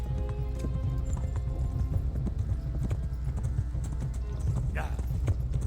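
A horse gallops in the medieval game Kingdom Come: Deliverance with rapid, continuous clip-clop hoofbeats, close and steady, plus a brief whinny near the end.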